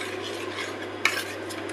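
Tamarind and jaggery water being stirred in a pot, soft swishing with a single sharp clink of a spoon against the metal partway through, heard close and alone.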